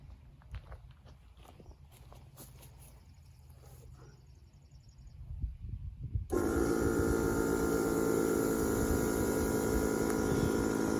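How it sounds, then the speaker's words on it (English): A small DeWalt machine starts up after some footsteps and handling noise, then settles into a steady, fairly loud running hum that holds to the end. "let me fire up that little DeWalt, see how loud it is"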